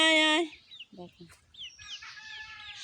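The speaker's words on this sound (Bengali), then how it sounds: "সবগুলো মুরগি এসে হাজির" A loud, sustained call opens, then backyard chickens cluck nearby in short, scattered bursts that thicken into steady clucking.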